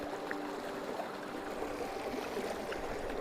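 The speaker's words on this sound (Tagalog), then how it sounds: "Ang agos ng tubig, no?" A mountain stream in Masinloc, Zambales flows steadily, its water current making a constant, soft rushing wash with no clear breaks and no voices.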